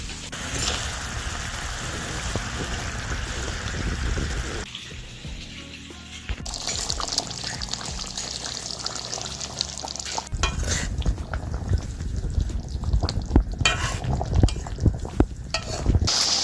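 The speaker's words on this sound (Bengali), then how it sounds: "ঝোলটা খুব ভালো মতো ফুটে গেছে, এবারে মাছগুলো দিয়ে দেবো" Pieces of katla fish go into boiling Bengali curry gravy, with close wet splashing, bubbling and stirring in the pan that shifts in texture through the stretch, no one speaking.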